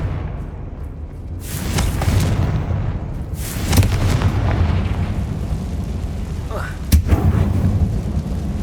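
Repeated booming blasts from the Confringo fire spell inside a dark abandoned mine in Hogwarts Legacy, several heavy low explosions a few seconds apart over rumbling ambience, loud and close.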